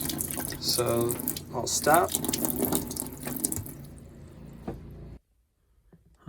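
Water spurts and splashes from a boat's fresh water system into a sink, uneven gushes and sputters close by, with someone talking over it before the flow cuts off abruptly into near silence.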